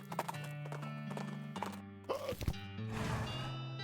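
A horse in the video game West of Loathing clip-clops in a quick rhythm, then gives a loud whinny, with a game music tone underneath.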